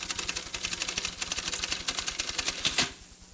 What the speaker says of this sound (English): All right, type about 80 words per minute.